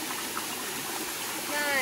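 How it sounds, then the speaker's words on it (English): Water pours steadily at the base of a waterfall on Guam, a continuous close broadband rush with no breaks, swelling slightly toward the end. "Right at the base of this waterfall."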